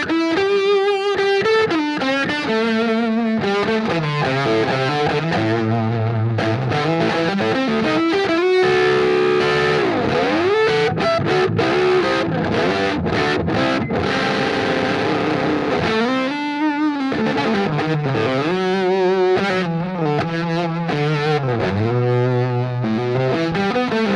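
An electric guitar played through a fuzz pedal set to 69 mode, thick and distorted, with sustained chords and sliding notes ringing continuously and loudly.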